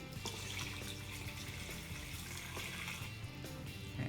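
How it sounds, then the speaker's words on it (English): Hot water pours steadily into an Instant Pot for pho ga, a continuous, close splashing rush of liquid with no pauses. "I'm gonna pour our hot water in here too."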